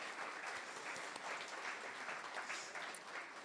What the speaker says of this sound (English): I'd like you to give them both a round of applause.